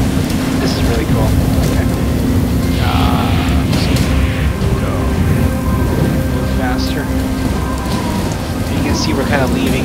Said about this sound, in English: And let's make it rain a bit.